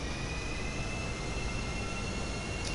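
A jet aircraft in the GTA V video game gives off a steady, loud, continuous engine roar with broadband rushing noise throughout, and nobody speaks.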